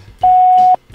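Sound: voicemail beep

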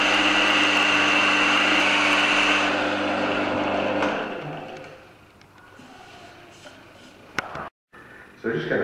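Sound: sanding wood and stone inlay on a lathe

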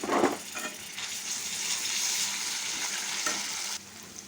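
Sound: frying carrots with ginger garlic paste

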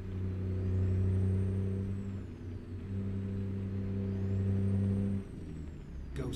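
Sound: truck with Detroit diesel engine and 18-speed transmission driving

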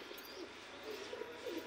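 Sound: pigeons cooing

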